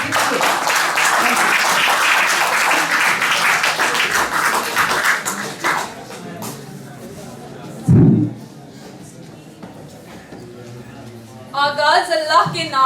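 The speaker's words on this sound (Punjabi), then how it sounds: "ਇਹਨਾਂ ਲਈ ਜ਼ੋਰਦਾਰ ਤਾੜੀਆਂ ਤਾਂ ਕਿ ਇਹਨਾਂ ਦੀ ਹੌਸਲਾ ਅਫਜ਼ਾਈ ਕੀਤੀ ਜਾਵੇ" Applause for a poet at a multilingual poetry gathering rings out loudly at first, then fades into scattered claps and a thump, with a voice speaking near the end.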